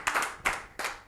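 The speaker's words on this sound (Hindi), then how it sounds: "एक बार जोरदार तालियां हो जाए।" Audience at a Rajasthan Parishad honouring event clapping in three short, loud bursts, each sharp onset fading quickly before the next, with no voices over them.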